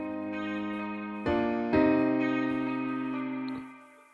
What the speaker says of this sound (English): Now we add the guitar